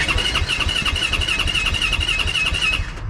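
Engine of a 2021 Yamaha YZ450F dirt bike with a clogged fuel supply, running roughly with an uneven, pulsing mechanical drone and a steady high whine, close and loud with no talking.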